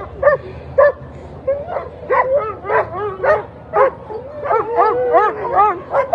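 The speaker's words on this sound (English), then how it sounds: "Fantastic looking dog team here" Sled dog team at the start of the Fur Rondy Open World Championship race, barking and yipping in repeated excited bursts up close, with whines mixed in and no pause in the chorus.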